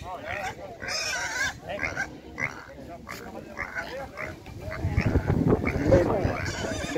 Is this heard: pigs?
yes